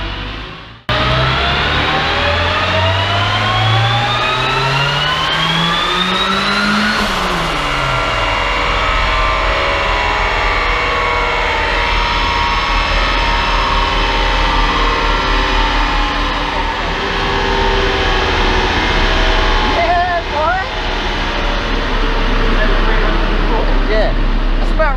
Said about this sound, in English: I should probably run it up in a different gear, because this gearbox is really short. And it will load the turbo up more